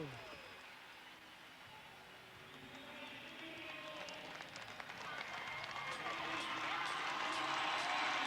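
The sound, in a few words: crowd cheering at X Games skateboarding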